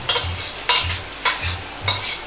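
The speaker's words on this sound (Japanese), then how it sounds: "卵を入れたらヘラを縦に下から上に入れて混ぜ合わせ、ヘラで周りから押さえて形を整えます。" A spatula stirs beaten egg and cabbage in a frying pan, scraping four times at an even rhythm over a continuous soft sizzle from the pan.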